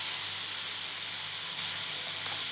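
Coriander leaves dropped into hot tempering oil with a few drops of water for chhole, giving a steady, close, even hiss and sizzle that holds unbroken throughout with no voices.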